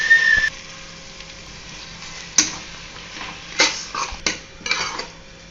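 Egg being stirred into fried rice in a pan, a metal utensil scraping and clinking against the pan in several separate strokes, with a faint background hum and no talk.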